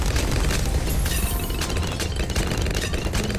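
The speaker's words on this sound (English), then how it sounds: "Having fireworks in a frozen land." Fireworks bursting on a snowy, frozen map in Bloons TD 6, a dense, continuous rumble of overlapping pops and booms with crackling bright edges throughout, loud and busy, no talk.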